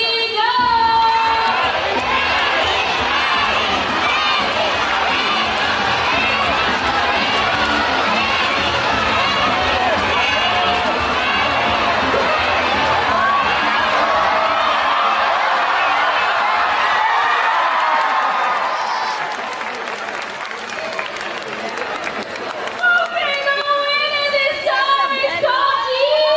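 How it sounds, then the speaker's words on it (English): A large crowd of supporters at a bird show cheers and shouts loudly and continuously, with children's voices prominent, before the noise fades into scattered talk near the end. "Corky supporters, come on guys. You have to cheer louder."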